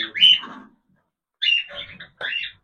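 Pet budgerigars and a cockatiel calling at their food, three short bursts of shrill chirping and squawking separated by silence, close and loud, with no talk.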